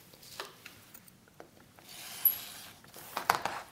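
Fabric trimmed along a quilting ruler edge with a rotary cutter, a faint close rolling scrape with soft rubbing and light taps, quiet and isolated with no talking.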